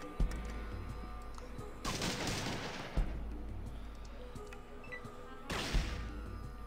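Gunfire from the video game Fallout 2, with a few loud, sharp bursts standing out over steady background game sound, spaced irregularly across the stretch.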